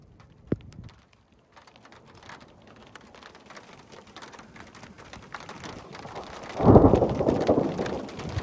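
Heavy rain pours steadily during a loud thunderstorm with hail, a sharp crack near the start, then a deep rumbling thunder roll swelling up close and loud over the downpour.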